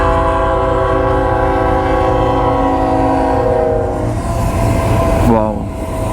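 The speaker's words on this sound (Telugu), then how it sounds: "We are gonna see the train now." A freight train with three engines passes on a bridge, a loud, steady rumble of wheels and engines with a sustained multi-tone horn blaring through most of it, ending in a brief falling tone, close by.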